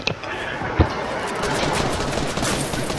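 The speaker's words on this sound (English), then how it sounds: "David, did you just try to shoot me with a damn pistol?" Rapid Fortnite pistol fire rattles in a dense, continuous stream after a single sharp crack, loud and close throughout.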